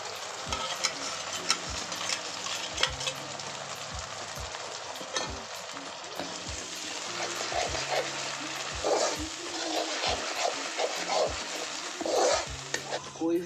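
A paste of ginger, garlic, chili, coriander and cumin sizzles and fries for mutton curry in a home kitchen. A steady soft hiss runs under repeated scraping and stirring taps of a spoon against the pan.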